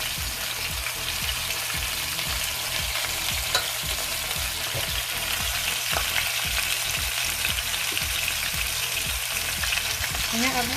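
Turkey necks for Jamaican curry fry in a pot with a constant close hiss and crackle, joined by a soft rhythmic stirring or bubbling that pulses underneath. No one speaks.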